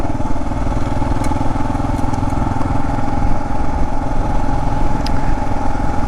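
A Kawasaki KLR650 motorcycle ridden off-road on dirt, its single-cylinder engine droning steadily and close up for the whole stretch, with faint clatter and a couple of brief ticks above the engine note.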